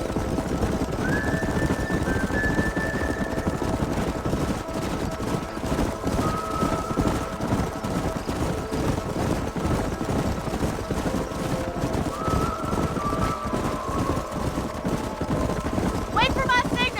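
Several horses gallop through a canyon in the Red Dead Redemption video game, a continuous dense clatter of hooves under steady wind and action noise, with brief whinnies and a voice talking over the running herd.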